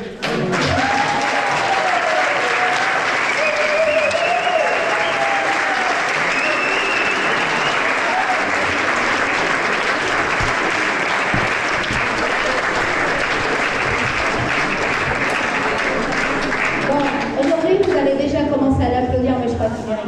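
An audience at a tango marathon, Rouen Tango en scène, gives Antonio a sustained ovation, loud continuous clapping for about twenty seconds with a few cheering voices rising above it.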